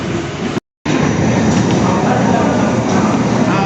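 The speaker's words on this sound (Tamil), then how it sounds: "இப்போ அடுத்த ட்ரெயின் பிடிச்சி போயிட்டுருக்கோம்." Riding a suburban train near Tambaram, with a loud continuous rumble and rattle of the carriage, briefly cut out near the start.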